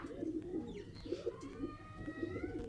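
Baby pigeon of a home breed cooing softly in repeated low murmurs, steady and close, with faint chirps from other birds in the background and no talking.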